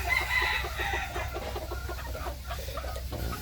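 A young rooster crows repeatedly among clucking farm chickens, the calls close and clear over a steady background of fowl chatter, with no talking.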